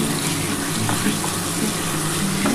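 Goat meat and spices being fried in a pan for a thin curry, a loud, continuous close sizzle and hiss with faint stirring clatter running throughout.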